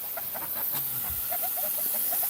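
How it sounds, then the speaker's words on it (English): Small geese make quick, soft clucking and chirping calls in short bursts against a constant hissing background, with no voices. "They are geese, but they are smaller in size."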